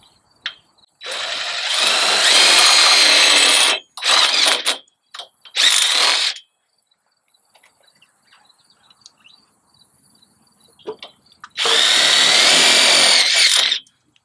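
Power drill driving 1-inch tech screws through pipe strap into a purlin, several whining high-pitched bursts of a few seconds each with short pauses between, close and loud.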